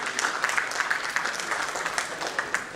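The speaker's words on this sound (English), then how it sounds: "And we have a big round of applause for Mr. SARAVANAN" A summit audience at a banking awards event claps for a panelist, giving steady, moderately loud applause that holds throughout with no voices.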